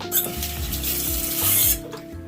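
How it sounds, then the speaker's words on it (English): Tap water runs onto a Mizon cream-to-foam cleanser as it is worked into lather, a close, steady hiss with soft rubbing and squelching that cuts off near the end, leaving quieter rubbing. "So let me add more water."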